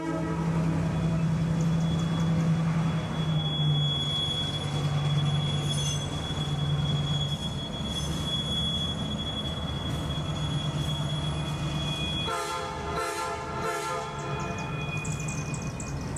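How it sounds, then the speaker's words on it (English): Baldwin VO1000 diesel locomotive No. 200, built in 1941 for the Frisco, backing its train around a wye, with loud steady wheel squeal, rumbling railcars and a sustained high screech throughout, shifting to a harsher grinding near the end. "Backing around the Y, the train will head for East Chattanooga as the evening Ridge Runner."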